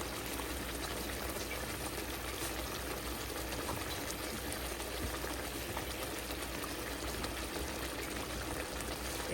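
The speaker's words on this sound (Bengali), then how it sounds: "এখন এই ঝোলটা কিছুটা টেনে আসা পর্যন্ত আমি এটা রান্না করব।" Pangas fish curry with cherry tomatoes and green chillies simmering steadily in a pan, a soft, even bubbling hiss that stays constant and fairly faint throughout.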